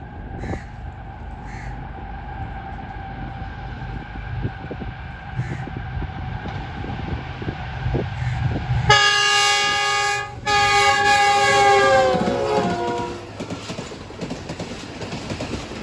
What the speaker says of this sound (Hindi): अब पाकिस्तान एक्सप्रेस आ चुकी है